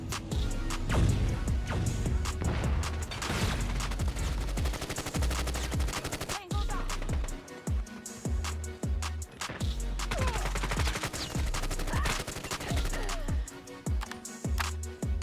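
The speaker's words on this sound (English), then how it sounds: "Then I hear this guy start shooting before he even comes around" Gunfire in Call of Duty Mobile: repeated automatic bursts and single shots crackle over a busy game soundtrack, loud and near, with brief gaps between volleys and no talking.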